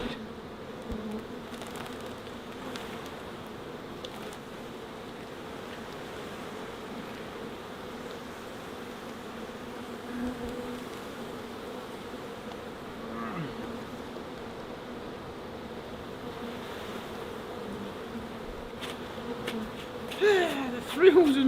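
Honeybees from a beehive being cut out and rehomed make a steady low hum throughout, with a few sharper buzzes passing close near the end and a person's voice faintly in the background.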